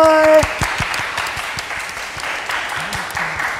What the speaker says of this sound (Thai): ปรบมือหน่อย